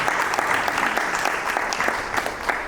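Audience applause at a summit inaugural session for a keynote speaker, a dense, loud, continuous burst of many hands clapping from start to finish.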